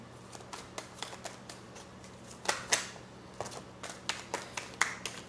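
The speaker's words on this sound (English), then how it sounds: "I'm just gonna do one more shuffle" Tarot cards are shuffled repeatedly up close, with quick riffling bursts and soft taps in an irregular rhythm, no talking.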